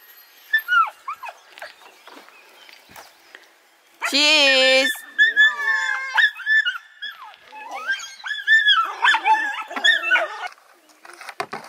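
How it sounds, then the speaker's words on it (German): Excited dogs bark and whimper indoors at close range, with a loud burst of high yips partway through and more whining after it, while people talk over and between the barks. "Die Hunde flippen einfach aus."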